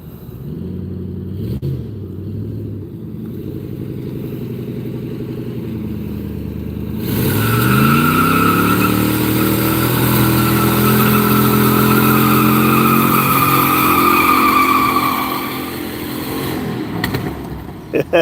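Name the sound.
car engine revving, with muffler and catalytic converter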